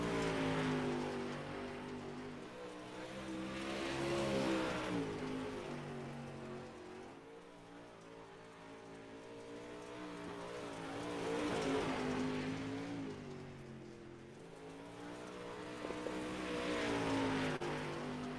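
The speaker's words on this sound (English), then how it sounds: "It is Byron Jones of 19AZ Jones Paint and Designs, 213simmer.com car, rolling out for his timed laps." Modified touring race car running timed laps at Volusia Speedway Park, its engine note swelling and fading as it circles the track, distant and fairly faint, with no voices.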